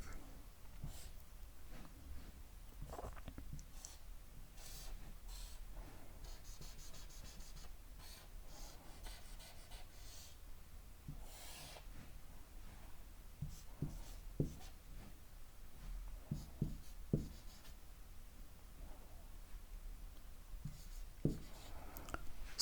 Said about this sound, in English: So I am writing an equivalent circuit.